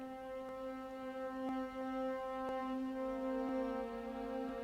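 Soft con sordino (muted) string ensemble sample patch holds sustained, veiled notes with gentle rearticulations every second or so, calm and unaccompanied.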